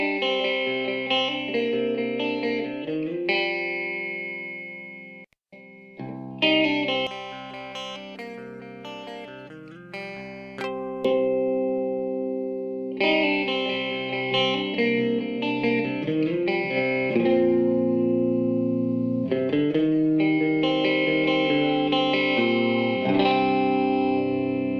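Distorted electric guitar through Two Notes Wall of Sound power amp simulation in arcade mode, playing loud sustained chords and riffs with a brief pause early on, dense and continuous with no talk.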